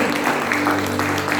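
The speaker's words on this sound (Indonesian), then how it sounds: "Berikan sorak-sorai dan Tuhan kepada Kristus" A church congregation cheers and claps for Christ in a dense, steady burst of applause under a sustained hum.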